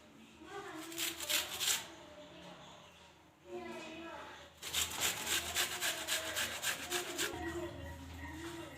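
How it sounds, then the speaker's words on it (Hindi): An onion rubbed against a kitchen grater in quick, rhythmic back-and-forth strokes, close and scratchy, in two bursts separated by a short pause, for crispy potato and egg kebabs. "प्याज ले लेंगे, इसको ऐसे कद्दूकश करके फिर डालेंगे।"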